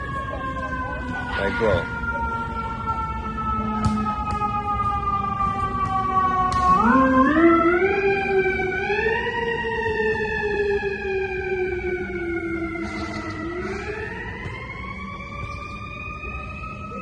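A wailing emergency siren sweeps up and down in pitch, loud and steady over street noise, with a brief spoken remark near the start.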